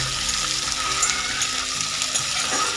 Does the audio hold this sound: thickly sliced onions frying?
yes